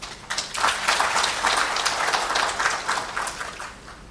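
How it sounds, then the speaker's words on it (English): A seminar audience claps steadily for a pharma sector tribute, a dense, sustained round of applause that holds throughout without any talking. "Pharma and this sector deserves a big round of applause."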